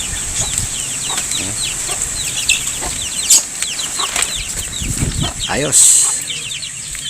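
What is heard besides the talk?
one-month-old pet chicks clucking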